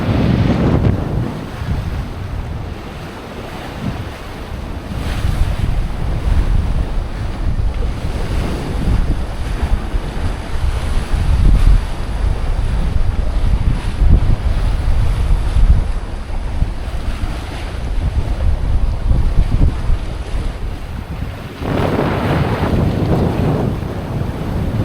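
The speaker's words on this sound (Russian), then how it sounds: "ветер поднялся." Strong, steady wind roars across open water with crashing surf and waves while sailing from St. Kitts to St. Barts, loud and continuous with no voices, gusting harder near the end.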